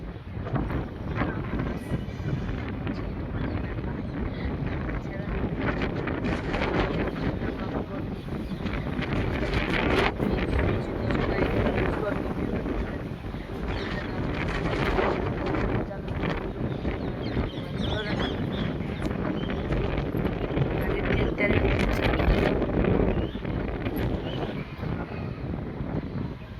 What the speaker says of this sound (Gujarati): અને વાયરો જોરદાર ચાલુ હ.